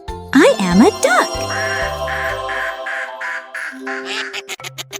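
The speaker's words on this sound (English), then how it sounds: "I am a duck" Cartoonish duck quacks in a children's farm animal quiz game, a few bright quacks near the start set against jingly music and sound effects, loud and close.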